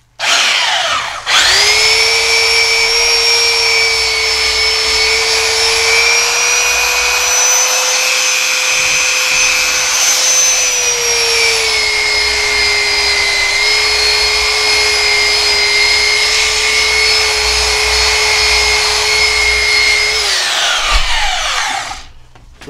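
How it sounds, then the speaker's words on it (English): A belt sander whirs loudly and steadily up close while shaping a new wooden handle for an old pulaski, spinning up at the start, holding a constant whine with slight pitch shifts, then winding down at the end. "with a belt sander."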